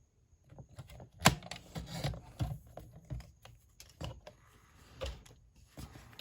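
Paper scraps are cut for a handmade birthday card, heard as soft irregular clicks, taps and scraping close by. The sounds come in uneven bursts with quiet gaps between them, and no one speaks.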